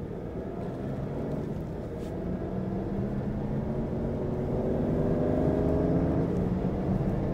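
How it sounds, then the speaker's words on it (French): A 2006 Aston Martin DB9 Volante with a V12 engine and six-speed automatic runs with a steady, deep, smooth drone that swells slightly toward the end, heard alone without talk. "Le son de ces Aston Martin V12 est toujours superbe."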